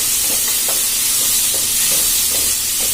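Vegetables, including green peas, sautéing together in a pan for a bread veg sandwich filling, with a steady close sizzle and occasional stirring scrapes throughout, no talking.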